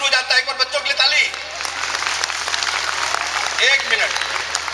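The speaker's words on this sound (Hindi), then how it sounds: "एक बार बच्चों के लिए ताली" An audience at a motivational parenting talk applauds the children, a steady wash of clapping that swells after a brief opening stretch of a speaking voice and carries on loudly to the end.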